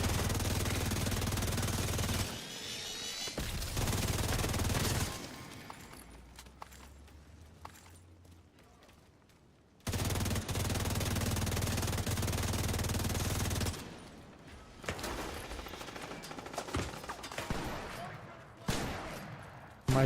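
Rapid automatic gunfire from a Division 2 firefight, loud bursts with gaps and sporadic shots between, game effects layered around it.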